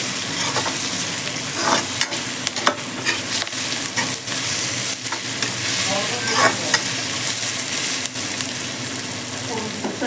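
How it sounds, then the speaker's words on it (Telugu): Cashews and onions fry in a pan with a steady, dense sizzle and occasional spoon scrapes as they are stirred, close and loud throughout. "ఇందులోకి జీడిపప్పు, ఇది కూడా మంచిగా ఆనియన్స్తో పాటు ఫ్రై అవుతాయండి"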